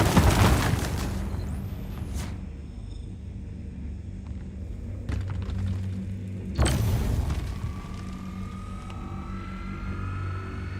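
Mining laser in a space video game cracking a Quantanium-bearing rock, a steady low droning hum with sharp bursts and a heavy boom as the rock breaks, loud and close, no talk.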